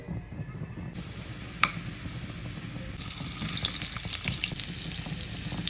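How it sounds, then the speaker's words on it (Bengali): Potatoes frying in hot oil for a beef biryani, a steady crackling sizzle with a sharp knock early on, growing louder and busier in the second half, with no speech. "এখন আমি আলুটা একটু ফ্রাই করে নিচ্ছি"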